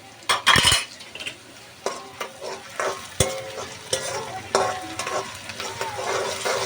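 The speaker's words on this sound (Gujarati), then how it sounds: "અને ઘડીક પાસે આપણે અહીંયા સડવા દઈશું" Ginger-garlic paste and green chillies sautéing with onions in a pan for mutton curry: a loud clatter of a spoon against the pan at the start, then a steady sizzle with repeated stirring knocks.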